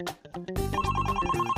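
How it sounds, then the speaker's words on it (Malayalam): A telephone ringtone from a kids' cartoon rings out loudly: a few short tones first, then a sustained bright electronic ringing melody filling the rest. "പിന്നെങ്ങനെയാ ഫോൺ ശബ്ദിക്കുന്നത്?"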